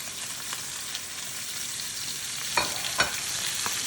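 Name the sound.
oxtail pieces browning in a pan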